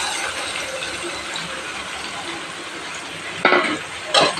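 Chicken fries with softened tomatoes in oil, giving a constant close sizzle broken by two brief louder scrapes or clanks from a spoon against the pan.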